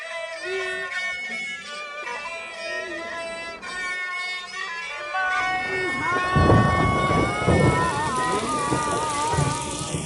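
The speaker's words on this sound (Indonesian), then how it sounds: "Hujan turun tiba-tiba." Rain suddenly starts pouring with low thunder rumbling, rising midway as a broad wash of noise beneath loud, continuous dramatic music.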